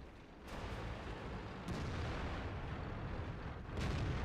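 Tank gun fire in World of Tanks, playing a Batchat 25t French medium tank, with a deep rumbling boom followed by two more muffled blasts over a steady low engine drone.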